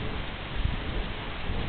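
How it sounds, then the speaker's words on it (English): Steady rain falls throughout at an outdoor encampment on a wet day, a constant dense hiss with faint low rumbles underneath and no one speaking. "This rain isn't going to let up."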